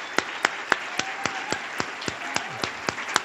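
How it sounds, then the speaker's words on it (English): Applause for award speakers at the Chancellor's Award for GLBT Leadership, heard as slow, evenly spaced sharp claps, roughly three or four per second, close and distinct rather than a dense crowd roar. "let's give another round of applause for Michael, Chris, and Alana for your inspiring words"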